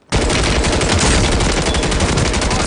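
Video game gunfire erupts in a loud, dense burst of rapid automatic shots lasting under three seconds, close and overpowering, with no talking.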